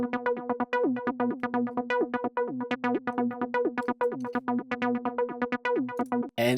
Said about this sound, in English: you know that this is a 303 sound